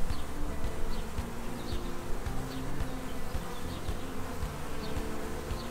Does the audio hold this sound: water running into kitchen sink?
no